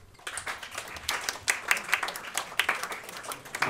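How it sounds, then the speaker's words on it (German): Thin, sparse clapping at a poetry slam, a smattering of separate hand claps from a small part of the audience that rises and falls in uneven bursts. "Wie klingt heute Abend ein 1-Punkte-Applaus?"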